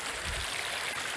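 A river in Truro flows steadily nearby, a continuous rushing, gurgling wash of water that holds constant through the short moment with no voices.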